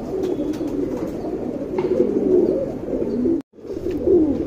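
A pair of flying-breed pigeons coos steadily and close by in a continuous low, rolling murmur, broken by a brief silent gap near the end before the cooing resumes.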